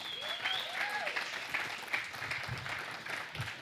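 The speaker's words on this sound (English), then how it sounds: "Everybody give her a round of applause." An audience gives a round of applause to welcome a guest presenter at a business talk, the clapping steady and moderately distant, with a few faint whistles or voices mixed in.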